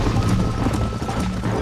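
Hooves of a galloping horse pound in a steady rapid clip-clop during a race in Red Dead Redemption, loud and close under continuous game ambience.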